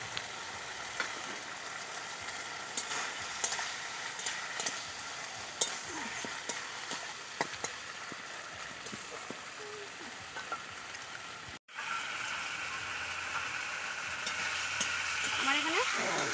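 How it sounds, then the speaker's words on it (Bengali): Spice paste with chopped tomato sautés in a pan, a steady sizzle broken by repeated scraping stir strokes, with a brief dropout partway before the frying resumes slightly louder. "মশলা কষানো হয়ে গেছে"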